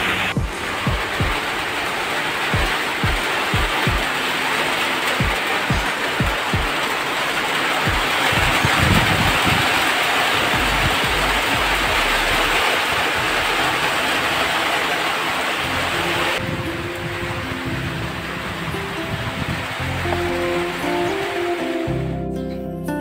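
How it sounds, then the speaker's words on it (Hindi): Steady rain pours down in a dense, hissing wash, loud and continuous with scattered heavier drops, easing slightly toward the end. "वो देखो बारिश आ रहा है अभी"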